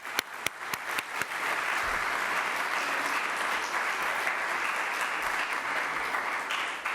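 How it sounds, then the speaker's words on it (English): A large audience at a state budget announcement by the New York governor breaks into sustained applause, opening with a few sharp separate claps that swell quickly into a steady, dense wash of clapping with no talk over it. "let's applause for that"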